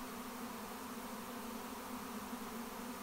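A honey bee swarm moving into a hive in a yard gives off a dense, steady buzzing hum that holds even and close throughout, with no voices.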